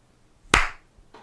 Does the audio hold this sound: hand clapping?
yes